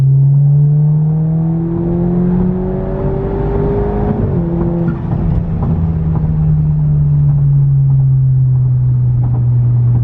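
Audi A5 with downpipe and resonator delete accelerating hard in third gear from about 50, a loud, close engine and exhaust drone climbing steadily in pitch with a brief dip around a shift, sustained rumble throughout with no talking.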